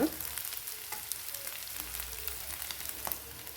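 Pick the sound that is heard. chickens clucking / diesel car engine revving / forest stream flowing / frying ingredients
frying ingredients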